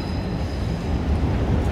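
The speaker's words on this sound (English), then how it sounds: "thank God the train is loud" A Chicago elevated L train rumbles past in downtown Chicago, a loud, steady low roar with faint rail noise running through the whole stretch and no talk over it.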